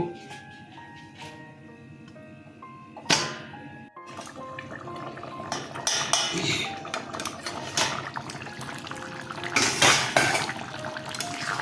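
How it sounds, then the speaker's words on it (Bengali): Soybean and potato curry bubbling in a covered pot on the stove, with a steady liquid simmer and a few clinks and clatters of the lid and utensils, close by and with no talking. "দেখুন কেমন ফুটছে।"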